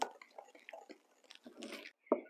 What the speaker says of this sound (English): Let's mix it together